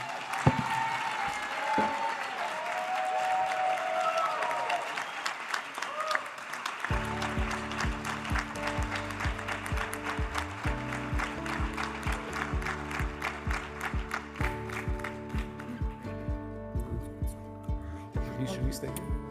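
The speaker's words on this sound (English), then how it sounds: "Please give Pedro a huge round of applause." Audience applause at an education summit's stage session, dense clapping at the start that gives way to loud rhythmic music with strong bass continuing to the end.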